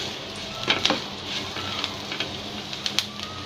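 Chilies frying in a pan with salt give a steady sizzle, with a few sharp scraping clicks from stirring, close by and with no voices.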